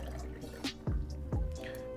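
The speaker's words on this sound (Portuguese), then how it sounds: "A gente vai filtrar com uma peneira de plástico, lembrando que não é bom usar metal" Water kefir drips through a plastic sieve as the grains are strained, with a couple of distinct close drops landing in liquid over a faint steady background.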